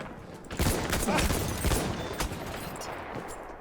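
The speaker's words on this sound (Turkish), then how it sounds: "Bana sıkıyorlar." Rapid gunfire crackles through a Battlefield 1 match on the Alçıtepe map, with Selbstlader M1916 rifle shots among a dense fusillade of sharp cracks that stays loud and busy for several seconds.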